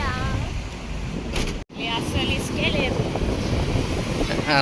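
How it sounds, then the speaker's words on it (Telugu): Sea surf rolls onto a beach near Ongole in a continuous roar mixed with heavy wind buffeting the microphone, with voices faintly audible underneath. "మొత్తం చాలా ముందుకు వచ్చింది సముద్రం."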